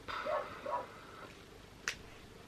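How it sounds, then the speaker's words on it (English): A pet dog barks outside, heard faintly at a distance as two or three muffled barks, followed by a sharp click. "Now Harlow, my doggy, is barking outside"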